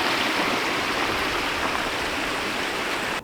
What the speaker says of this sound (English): Fresh spring water for free.